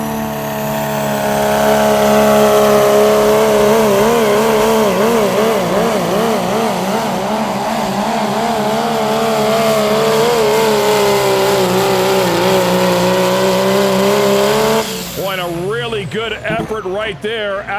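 Pro Stock diesel pulling truck roaring loudly and continuously through a pull, its heavy engine note wavering as the load builds, then cutting to a rougher, broken rumble near the end.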